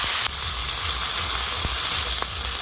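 A ground spice paste of cumin and ginger sautés with onions in a pan for mutton kosha, a dense, even hiss of frying with a couple of faint knocks, close and without talk.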